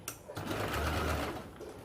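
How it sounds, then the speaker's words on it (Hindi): A sewing machine stitches piping along a fabric edge in one short, steady mechanical whir that runs close and continuous for under two seconds. "किनारे पे सिलाई लगानी है।"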